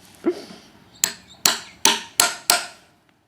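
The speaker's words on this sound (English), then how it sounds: "give it a bit of a thump just to mark the position" A hammer thumps a cypress sleeper for a planter box, marking a position: one soft knock, then five sharp, evenly spaced wooden strikes, close and clear in a quiet space.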